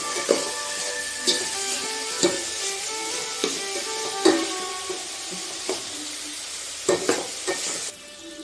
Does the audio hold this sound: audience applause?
no